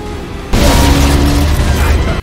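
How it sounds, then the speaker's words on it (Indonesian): A landmine blast in a film scene set during a car race, a sudden loud booming explosion that hits abruptly and then roars on as a dense sustained rumble with debris noise, cutting off sharply at the end. "di belakangnya ada sebuah ranjau meledak dan memaksa salah satu mobil untuk berhenti"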